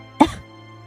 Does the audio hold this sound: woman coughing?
yes